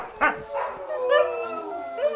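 Sled huskies at a husky lodge in Muotathal howl and yip excitedly before a run, several close, overlapping rising howls and short barks in quick succession.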